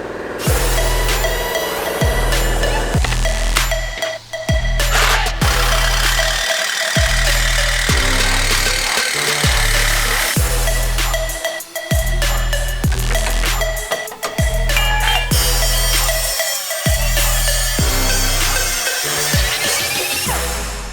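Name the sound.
Sawzall reciprocating saw cutting behind Jeep Wrangler bumper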